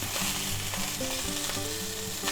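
Old Bay seasoned salmon fillets, skin side down, sizzle and fry steadily in a hot pan, a dense, continuous crackle close by with no voices.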